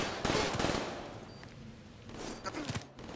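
Bursts of rapid gunfire in a multiplayer video game, short automatic volleys at moderate distance, alone without talk, fairly faint, with a pause between two clusters of shots.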